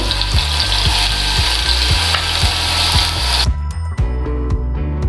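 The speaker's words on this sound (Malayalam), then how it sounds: "എണ്ണ ചൂടായിട്ടുണ്ട്. ഇതിൽ 2 ടീസ്പൂൺ ഇഞ്ചി ഇട്ട് കൊടുക്കാം. 1 ടീസ്പൂൺ വെളുത്തുള്ളി," Ginger and garlic fry in hot oil in a pan for a Kerala chicken stew, a steady close sizzle with rhythmic stirring scrapes, the hiss dropping off abruptly near the end.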